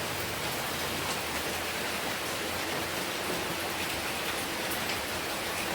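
Heavy rain pours down in Goa, a dense, continuous hiss of downpour drumming on surfaces, loud and steady from start to finish with no voices over it.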